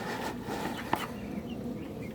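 Chickens in a shaded run on a warm day make soft clucking and low fowl murmurs close by, with one brief sharper sound partway through.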